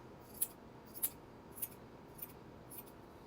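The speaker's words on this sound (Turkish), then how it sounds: "Şimdi şu, şu şuralarını makasla düzelteceğiz." Scissors trim a handmade yarn pompom, five crisp snips at an even pace, close and fairly quiet over a soft background hiss.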